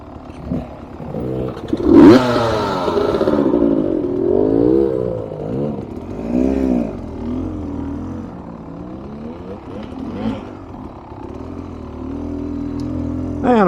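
A Beta Xtrainer trail motorcycle lugs at low revs on a rough test ride, its engine note rising and falling in uneven pulls with a sharp burst near the start, close and alone without talk.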